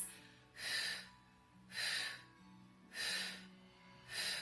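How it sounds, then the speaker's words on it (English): Pilates breathing demonstrated by an instructor: four evenly spaced, audible breaths about a second apart, each a soft airy rush, close and quiet with no talk. "So the breathing, when you get there, should sound like this."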